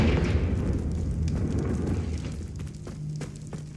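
A fiery Confringo spell explosion in the wizarding game Hogwarts Legacy: a loud deep rumbling blast that decays over a few seconds into crackling burning, with no talk.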